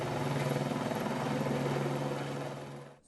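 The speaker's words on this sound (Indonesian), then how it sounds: "pemadaman api juga dilakukan melalui udara menggunakan helikopter dengan metode waterbombing" A helicopter waterbombing a fire at the TPA Suwung landfill in Bali gives a loud, close, steady rotor drone with a pulsing beat that fades out abruptly at the end.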